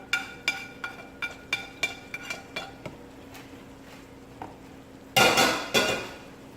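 Shrimp tossed back into a pan of spicy Creole sauce and stirred: a quick run of metal spoon clinks against the pan, then a louder scraping stir near the end.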